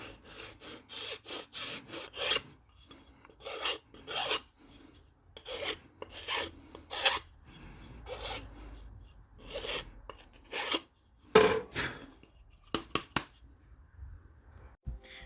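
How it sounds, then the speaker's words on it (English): A hand file rasps along the edges of a fibre cement board being shaped for a double bass bending iron. Steady rhythmic back-and-forth strokes, close and clear, with brief pauses between bursts and no talking. "I have to clean up the edges and tidy it generally with a hand file"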